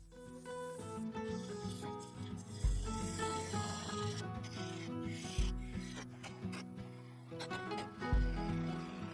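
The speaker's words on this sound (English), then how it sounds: "I sanded from 80 to 3000 grit" Abrasive paper rubs against a spinning purple epoxy resin and yew dish on a wood lathe, giving a soft continuous rasp with low thumps recurring every few seconds, close but quiet.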